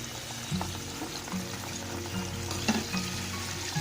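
Chicken pieces sizzle steadily in hot frying oil for zinger shawarma, a continuous close crackle with small bursts of spatter and occasional soft stirring knocks, with no voices.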